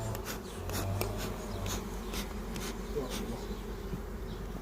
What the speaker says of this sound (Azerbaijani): Bu arının sortu